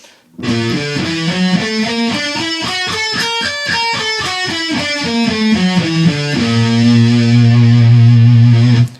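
Distorted electric guitar runs up and down a scale in steady, quick notes, then settles into a loud, sustained low chord.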